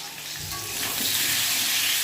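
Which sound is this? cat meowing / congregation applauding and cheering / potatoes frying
potatoes frying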